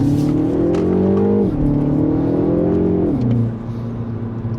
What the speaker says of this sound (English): I'm gonna give it some gas right here.